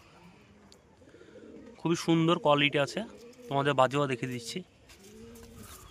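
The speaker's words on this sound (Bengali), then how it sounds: "এ হচ্ছে কবুতরটা মাদি, সিঙ্গেল মাদি আছে" A single female pigeon coos softly in low, repeated murmurs before and after a stretch where someone talks loudly nearby.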